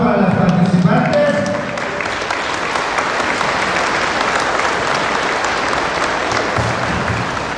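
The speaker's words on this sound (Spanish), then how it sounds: "Fuerte el aplauso para las participantes." Strong applause from a crowd for participants at a Guadalupe festival celebration in Albertville, sustained and dense for several seconds after a brief moment of amplified speech at the start.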